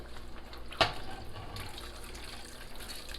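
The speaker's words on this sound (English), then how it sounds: "We add in our beef broth." Beef broth pours into a pot of macaroni noodles for an old-school one-pot goulash, giving a steady close liquid splashing with a brief sharp clink near the start.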